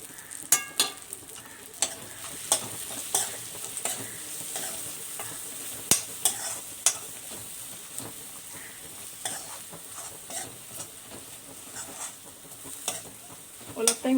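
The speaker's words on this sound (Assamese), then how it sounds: "অলপ টাইম এনেকৈ মছলাখিনি ভাজি লওঁ" A spice masala for a rohu fish curry fries in oil, giving a steady low sizzle broken by repeated sharp scrapes and taps of a spoon stirring against the pan.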